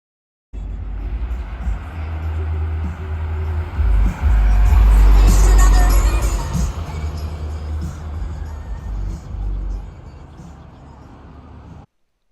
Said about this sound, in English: Listen really closely as the red truck passes me